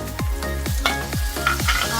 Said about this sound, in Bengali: এবার দেব টমেটো কুচি